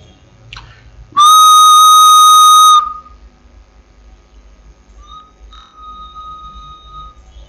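A single loud, pure human-whistled tone around 1.2 to 1.3 kilohertz, held steadily for under two seconds, followed by faint quiet background and a soft distant tone.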